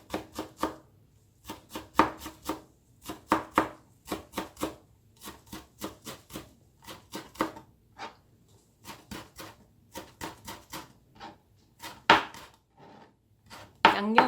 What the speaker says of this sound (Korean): 아주 곱게 다져주세요.